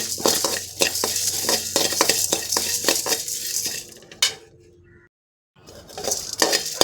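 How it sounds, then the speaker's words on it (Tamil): Horse gram and pepper dry-roasting in a pan, with repeated scraping and stirring clinks of a metal spoon against the pan, fairly close and steady, then a brief silence before the stirring resumes. "மிளகும் சேர்த்திக்கலாம் இப்போ இதை நல்லா வறுத்துக்கலாம்"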